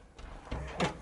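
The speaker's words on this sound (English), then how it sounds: "Jihad, open the door." A door is opened from outside on a cold evening, heard as a short, quiet rattle and thud with a slightly louder scrape at the end.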